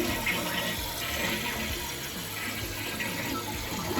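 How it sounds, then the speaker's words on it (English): Toilet tank refilling with water after a repair to a running toilet, a steady close rushing and hissing fill that continues without break. "go ahead and turn the water back on and get the tank filled up"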